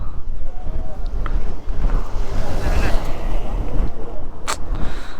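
Strong sea wind buffets the microphone on the Pamban bridge during a motorbike ride, a loud continuous roar with surf-like rushing and someone speaking intermittently.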